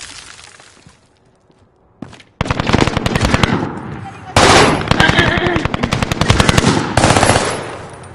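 Video game gunfire: loud, dense bursts of rapid automatic shots in several long runs, separated by a brief near-silent gap early on, punchy and close with no talking.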